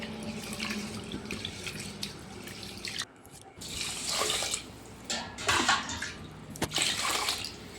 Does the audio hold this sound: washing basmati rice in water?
yes